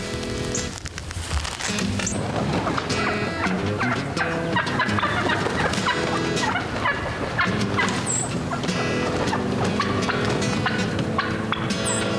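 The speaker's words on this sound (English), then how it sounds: "We got some turkeys on the roost right here." Wild turkeys gobble from the roost at dawn during a hunt, several birds sounding off in repeated bursts, some near and some farther off, over a steady dense outdoor background with no talking.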